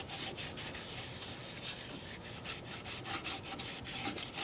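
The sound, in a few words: sanding black cherry wood on lathe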